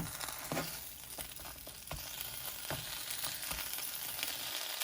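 A breakfast quesadilla fries in a pan, a steady close sizzle with a few soft thumps and scrapes as it is pressed down, and no voices.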